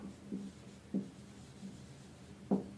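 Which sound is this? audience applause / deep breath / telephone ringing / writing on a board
writing on a board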